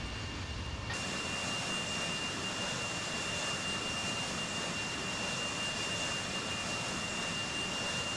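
Airbus A320 jet engines in the FSLabs flight simulator give a steady, broadband hiss with a faint whine, constant and unbroken from start to finish, with no voices over it.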